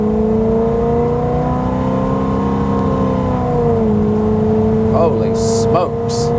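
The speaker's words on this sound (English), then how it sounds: "hopefully you'll be able to hear the exhaust note and have the experience. I'll give it a little gas." A 1969 Pontiac GTO Judge with a Ram Air III engine idles with a deep, steady exhaust rumble, then the revs rise and surge in two short bursts near the end.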